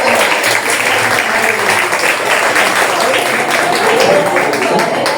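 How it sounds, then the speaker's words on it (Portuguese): A congregation applauds during a Portuguese-language church communion service. The round of clapping is loud and dense and holds steady throughout, with voices mixed in under it. "Isso é uma salva de palmas"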